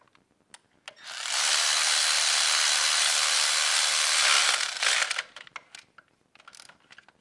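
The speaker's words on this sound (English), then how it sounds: "junk ratchet, but gets it close enough to where you just give it a few more" A cheap ratchet, likely powered, whirs steadily for about four seconds while running a bolt down, loud and close, then stops and is followed by a few faint clicks and handling knocks.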